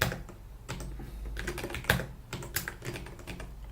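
Rapid typing on a computer keyboard during Python coding work in VS Code, a close, irregular run of crisp key clicks and taps with brief pauses, fairly quiet and with no talking.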